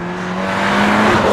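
A 2017 VW Golf R under hard acceleration, its engine note loud and close, a strong steady tone that builds in volume and rises in pitch over about a second, with no voices.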